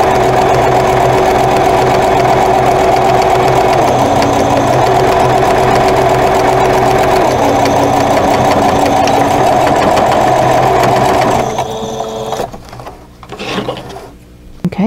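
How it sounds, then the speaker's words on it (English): Sewing machine stitching close to a folded fabric edge on a crochet hook wrap, a loud, steady mechanical whir running unbroken for about twelve seconds before stopping, with a few faint clatters afterward. "I'm going to sew about an eighth of an inch away from this folded edge"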